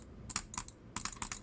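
A computer mouse is butterfly-clicked fast, giving two tight bursts of rapid, sharp, close clicks separated by a brief pause, with no talking.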